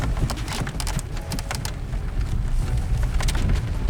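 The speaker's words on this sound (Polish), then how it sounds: "Deszczyk sobie pada." Steady rain falls on the outside of a Volkswagen Golf IV during a drive, a dense, continuous patter with scattered sharper drops over a low rumbling road and engine noise.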